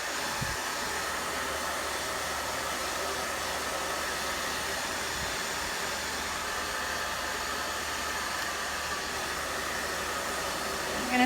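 A hair dryer with a diffuser blows hair dry in a steady, loud, close-up roar of air that holds unbroken for the whole stretch, with only a faint bump or two underneath.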